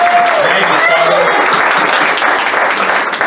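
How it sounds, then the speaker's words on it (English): A congregation at a Sunday church service bursts into sustained, loud applause welcoming a visitor from Texas, the dense clapping steady throughout with a voice briefly rising over it near the start. "And let's give Donald a round of applause."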